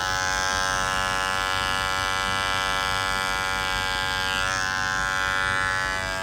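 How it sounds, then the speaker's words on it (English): Electric dog grooming clipper shaving a matted Japanese spitz, a loud, steady close-up buzzing drone that runs without a break. "Clipper, because it's getting very loud, and this is the second pair"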